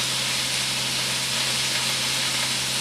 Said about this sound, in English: I'm just kind of browning the ends of it, browning the edges.